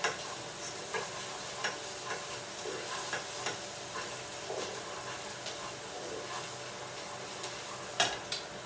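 Quinoa risotto cooks in a pan on the hob, giving a steady close sizzle broken by scattered soft stirring scrapes and a sharper clack near the end.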